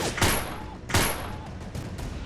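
Two sharp gunshots ring out about a second apart in the subway level of the VR game GUNCLUB VR, each with a short ringing tail, followed by faint clatter.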